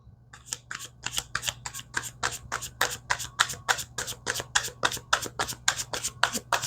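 Tarot cards riffled and shuffled in a rapid, steady rhythm of about twenty crisp, evenly spaced snaps, close and clear over a low background hum, with no talking.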